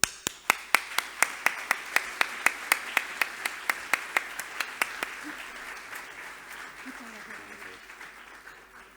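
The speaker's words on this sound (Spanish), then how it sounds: "Vamos a recibir con un fuerte aplauso a David Botello." At a tribute ceremony for long-standing association members, the crowd applauds to welcome a speaker: loud, regular near claps from one person stand out over broader applause that gradually fades.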